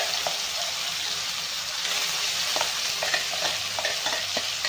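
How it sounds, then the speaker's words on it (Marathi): Mustard seeds, cumin and a ground masala paste fry in a pan for eggplant, giving a steady, close hiss and sizzle with occasional small pops and stirring scrapes. "आता 1 चमचा आपण मोहरी टाकून घेणार आहे, आणि अर्धा चमचा आपण जिरा टाकणार आहे, जिरे। आणि वाटण बनवलेलं आपल्याला सगळं टाकून घ्यायचं आहे।"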